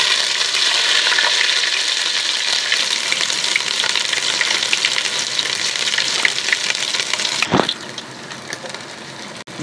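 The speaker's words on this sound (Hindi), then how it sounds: "2 टीस्पून इसके अंदर लहसुन अदरक शामिल किया है, इसे हम गोल्डन कर लेंगे।" Garlic and ginger paste fries in hot oil with cloves and bay leaves as a steady, loud, dense sizzle, briefly disturbed near the end by a clatter before it settles back down.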